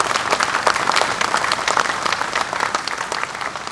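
Audience at a D-Day 80th anniversary ceremony at a museum of American armor applauding, a dense steady clapping from a crowd that holds throughout at fairly loud level, no talking.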